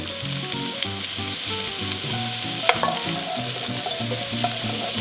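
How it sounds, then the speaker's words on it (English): Garlic and chopped onion sizzling in foaming butter, a loud steady frying hiss close up with a few soft stirring scrapes and clicks, no speech. "Once the butter is foaming, we're going to add the garlic and also our chopped onion."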